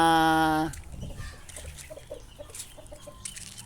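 A gamecock rooster's crow breaks off at the start, followed by hens clucking softly and repeatedly nearby, with scattered farmyard noise.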